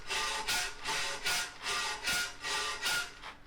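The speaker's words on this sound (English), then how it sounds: "So hacksaw it is." Hacksaw rasping through metal stock for a knife handle, steady back-and-forth strokes repeating roughly twice per second, close and fairly loud with no talking.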